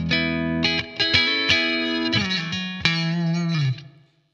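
An electric guitar played through a Blackstar AMPED floorboard amp with its reverb on the dark setting: a short run of distinct picked notes and chords with a lingering wash of reverb tail, ending in a fading final note.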